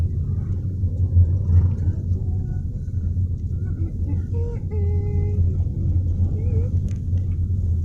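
Tricycles and other motor traffic pass along a one-way road near Baybay beach in Roxas City, a low rumbling engine drone with a few faint horn toots above it, while voices chatter in the background.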